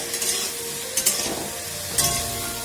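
Food fries with turmeric powder in a pan, a steady close sizzle broken by three quick scraping stirs of the spatula against the pan.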